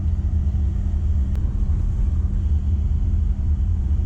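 A Toyota Celsior (Lexus LS400) on a test drive, heard from inside the cabin as a steady low engine and road rumble that holds evenly throughout, with a brief faint click near the start.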